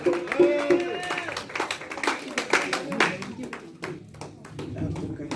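A church congregation claps in praise of Jesus, with bright, rhythmic rapid hand claps over sung or called voices and crowd noise.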